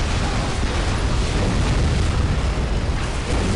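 A tank blowing up in the real-time strategy game Dawn of War, heard as a dense, roaring explosion blast that holds a steady loud rumble for several seconds with no gaps.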